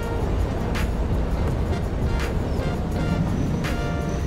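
A steady, heavy mechanical rumble with a rhythmic clatter recurring about once a second, a train rolling along at speed in the video game Satisfactory, with no voices.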